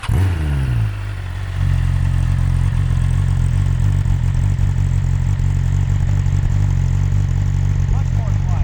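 A sport motorcycle with stock exhaust and headers, a Brent tune and 91-octane fuel, about 800 miles old, runs close by with a deep, steady rumble. It settles from a short blip into an even idle.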